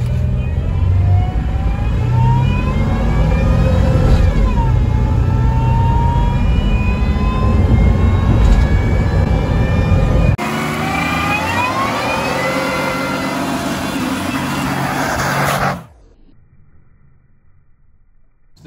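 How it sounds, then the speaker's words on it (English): A 1997 Toyota 4Runner fitted with a Magnuson supercharger accelerates hard from a standstill, its engine loud and close with rising whine and a gear change partway through, then cutting off abruptly near the end. "Alright, 0 to 60 time with the Supercharger."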